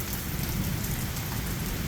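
Heavy rain pours steadily during a thunderstorm, a dense, loud, continuous wash of drops hitting surfaces with no voices over it.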